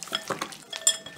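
Quail being stirred with salt in a bowl for grilling, giving soft scraping and light clinking strokes in a quick irregular rhythm, close and fairly quiet.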